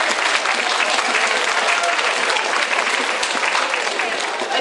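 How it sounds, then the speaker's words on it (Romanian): At a cultural expo and contest in Alba Iulia, an audience applauds to welcome the county council president, with dense, even clapping that fills the hall and carries on without a break. "haideți să-l primim cu aplauze când ajunge la noi"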